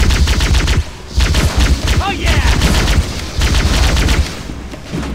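Plasma rifle fire in Halo CE, rapid bursts of energy shots in quick strings broken by short pauses, loud and close, with brief sweeping whines between volleys.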